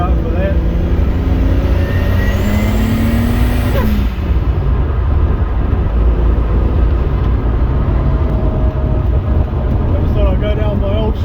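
Toyota Supra fitted with a 1.5JZ engine, not fully tuned, pulling down a street with a sustained loud engine drone and a rising pitch sweep as it accelerates and briefly loses traction.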